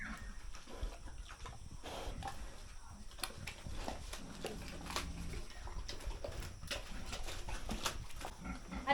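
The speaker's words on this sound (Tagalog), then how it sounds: "Napakabait na baboy ito guys." A pregnant sow about 100 days along on a farm grunts and snuffles close by, with soft oinks and rustling in a noisy pen.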